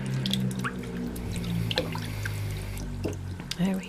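A Scruff-a-Luv plush toy is washed in a basin of water, with scattered drips, splashes and gurgles of water sloshing around it, and a voice talking over the sounds.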